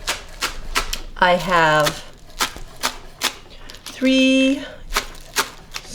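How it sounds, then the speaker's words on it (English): A knife chops green onion stalks on a cutting board in a rapid, even run of sharp taps, broken by bursts of close talking. "I'm just chopping up some green onion."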